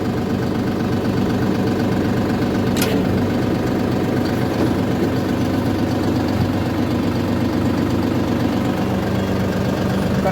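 A SANMAN 6000 tractor engine idles steadily throughout, a continuous low diesel rumble with a knocking texture during land preparation for maize, close and loud, with one brief sharp click early on and no speech.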